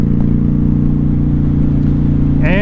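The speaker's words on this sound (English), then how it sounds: "I am gonna get on this throttle a little bit more when I turn this next corner." A Honda Shadow motorcycle engine drones loudly and steadily at close range while riding, with a brief rising whine as the throttle opens near the end.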